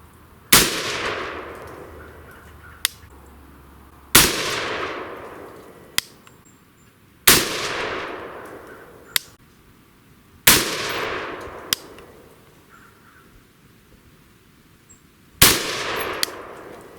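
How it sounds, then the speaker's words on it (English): Five rifle shots fired at a 100-yard range with a thermal-scoped rifle, each a sharp loud crack with a ringing decay, spaced a few seconds apart, plus faint metallic clicks between shots and no talking. "Okay, here we go. 5 shots."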